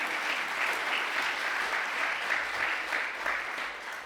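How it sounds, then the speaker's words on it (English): A crowd at an entrepreneur conversation event claps steadily, a dense, even wash of applause that stays moderately loud throughout without voices on top. "That deserves applause."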